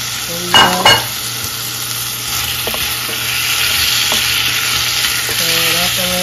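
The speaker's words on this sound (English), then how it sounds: "Stir it up a little." Carrots, potatoes and frozen corn sizzle loudly in a pot for veggie soup. A couple of sharp scraping stirs come early, then a steady frying hiss continues with occasional faint clinks.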